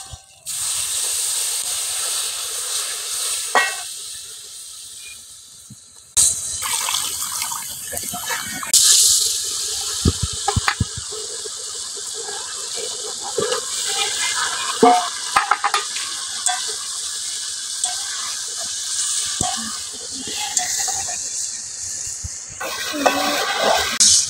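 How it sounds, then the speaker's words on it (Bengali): A pan of fish curry with chilli and turmeric powder sizzles and hisses steadily while a spoon stirs and scrapes through it in repeated strokes, close and fairly loud, with occasional clinks against the pan. "এখন একটু নেড়ে নিব।"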